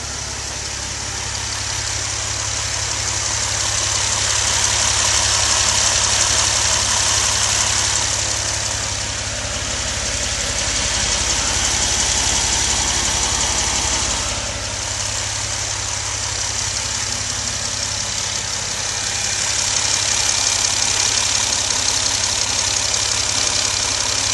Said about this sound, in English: we are all done, and the Jeep is running good